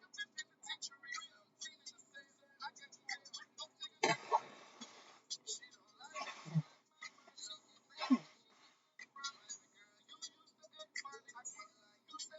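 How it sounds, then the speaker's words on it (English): A person blows their nose in a few short, breathy bursts of varying strength, close to the microphone, between quiet clicks and handling noises in an otherwise still room. "Hold on, I gotta blow my nose."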